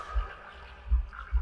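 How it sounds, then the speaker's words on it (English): A deep heartbeat sound effect thumps from the video game The Last Campfire, three low heavy pulses at a slow uneven pace over a faint hum, with no talk. "a deafening heartbeat"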